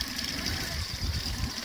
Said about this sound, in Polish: Do tyłu silnik.